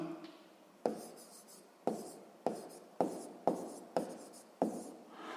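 A pen writes on paper while a homework exercise is noted down, a series of about eight close, distinct strokes and scratches in an uneven rhythm.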